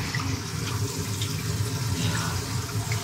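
Water running steadily through a repaired sink drain pipe under a kitchen sink, a constant close splashing flow that fills the whole stretch without a break.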